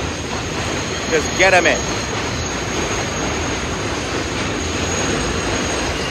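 Constant loud roar of a passing train with a brief metallic wheel squeal near the start, and a voice speaking briefly over it.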